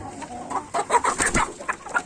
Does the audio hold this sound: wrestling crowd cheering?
no